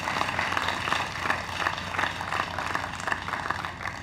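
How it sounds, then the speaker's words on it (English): Audience applause at the launch of Caribbean Vaccination Week of the Americas in Guyana: a steady, moderately distant wash of many hands clapping for four seconds, fairly even with small swells. "We can give a much more resounding round of applause for that."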